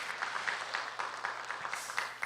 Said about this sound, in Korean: 큰 박수로 여러분 격려해 주시기 바랍니다.